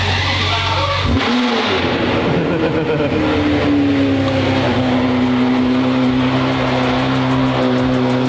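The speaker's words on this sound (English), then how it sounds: "Let me see if the Ferrari will start." A Ferrari engine cranks and catches, then roars loudly and steadily at close range, holding a strong droning rev for several seconds.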